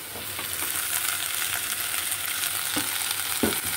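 Vegetables and peanuts stir-frying for Bengali fried rice, a steady close sizzle with scattered clinks and scrapes of a spatula stirring the pan throughout.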